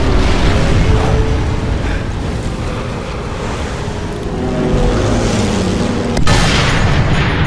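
Gunfire from a sniper rifle in the video game Sniper Elite 3: loud, booming shots over a dense, continuous rumble of game ambience, with a sharp report near the end.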